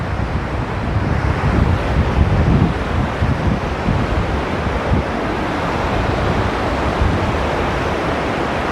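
The Ganga River flows past the ghat at Devprayag in the Himalayan foothills, a loud, steady rushing wash of water that fills the scene with no voices.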